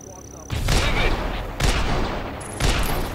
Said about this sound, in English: that just made him fire his gun loads